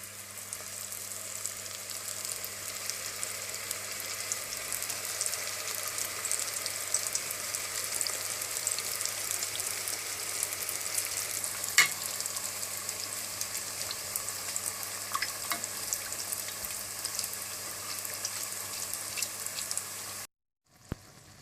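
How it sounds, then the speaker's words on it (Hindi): Spring rolls deep frying in hot oil, giving a steady, soft sizzling hiss with faint bubbling pops that continues evenly for about twenty seconds before cutting out, with no voices. "इसके बाद आप तेल गरम कर लें और ये स्प्रिंग रोल तल लें।"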